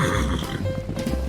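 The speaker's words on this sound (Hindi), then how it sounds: "सबसे तेज तो घोड़े ही भागते हैं" Cartoon-style horse sound effect of a whinnying neigh mixed with galloping, loud and close with a dense, busy texture.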